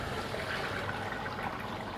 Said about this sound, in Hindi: हमने पानी ऐड कर दिया।